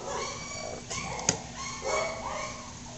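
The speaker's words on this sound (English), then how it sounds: "The neighbor's dog is barking like mad." A neighbor's dog barks and yelps repeatedly in the background, its calls somewhat distant over a steady indoor room hum.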